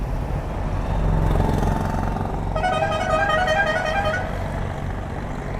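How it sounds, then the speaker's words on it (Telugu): Vehicle horns honking on a road during a motorcycle ride, one long tonal blast rising over steady engine and wind rumble, with traffic noise throughout. "నాకు కావాలా హార్న్"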